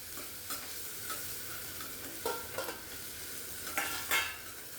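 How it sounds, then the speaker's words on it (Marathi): Chopped tomato cooking down in a fried onion mixture gives a steady, moderate sizzle, with a few louder bursts of spatter and stirring along the way. "तो टोमॅटो देखील या मिश्रणात आपण मऊसूत शिजवून घ्यायचा आहे."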